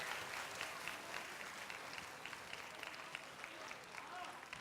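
A studio audience at a live Ramzan iftar television show claps in a steady, dense wash of applause that fills the whole stretch at an even level, fairly faint, with no voices clearly rising above it.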